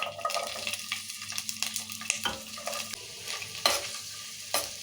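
Onions and green chillies sizzle in hot oil as a spoon stirs them, the soft frying hiss broken by frequent scraping clatters, close and fairly quiet, with no voices.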